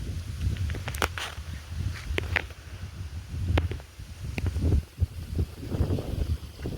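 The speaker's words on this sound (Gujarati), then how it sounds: "પવન કેટલો મસ્ત ને છે" Wind gusts across an open millet field during harvest. A steady low rumble of wind buffeting the microphone is broken by brief rustles and knocks nearby.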